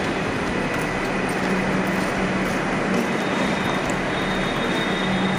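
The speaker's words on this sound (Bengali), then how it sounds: "ট্রেন ঢুকছে" A train pulls into a busy suburban railway station, a loud, steady rumble and roar of wheels and carriages that holds throughout, with no talking over it.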